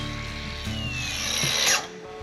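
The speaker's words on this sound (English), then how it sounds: "I'm just using this little grinder now, this battery" Small battery-powered angle grinder running steadily close by, its whine rising slightly before cutting off near the end, used on a cow's hoof on a farm with a generator nearby.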